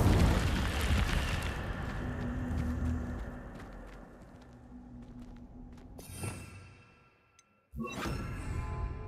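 Incendio fire spell cast in Hogwarts Legacy, a loud fiery burst and rumbling whoosh that fades over several seconds, followed by a brief pause and a second sharp magical burst.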